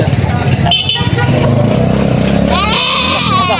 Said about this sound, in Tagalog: Aba, ay dala na yung mga kambing.